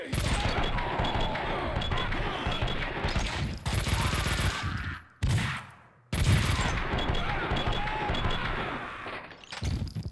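Sustained bursts of gunfire from the video game Max Payne 2, dense and loud, with rapid overlapping shots and heavy impacts, briefly cut off before the firing resumes at full intensity.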